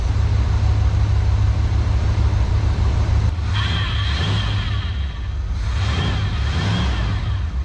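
A 1976 GMC truck engine, freshly fitted with new valve seals, idles smoothly and quietly with a steady low rumble, joined by a brief hiss and faint mechanical clatter.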